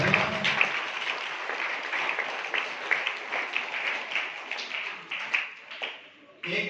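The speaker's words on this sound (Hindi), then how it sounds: "ताली पूनम जी के लिए बधाई" Audience applause for Poonam ji at a school staff gathering, a sustained patter of many hands clapping at moderate level, tapering toward the end with a few louder claps.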